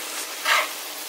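Mushrooms and shrimp sizzle in a pan for a keto shrimp and spinach Alfredo, with a steady soft frying hiss and a brief louder burst of sizzle midway, no talking.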